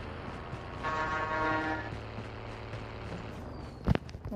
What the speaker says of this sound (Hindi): अच्छा ये जो हॉर्न बजता है ये एनिमीज को भी सुनाई देगा ना?